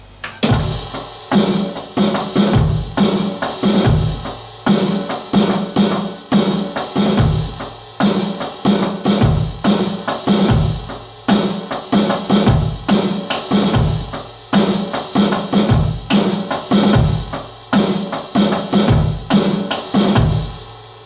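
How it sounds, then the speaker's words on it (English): Drum beat in a song's pattern played on the ride cymbal, steady loud kick and snare under a continuous cymbal wash, repeating evenly throughout without talk. "instead of being played on the hi-hat with the hi-hat opening on the first beat, it's played on the ride cymbal"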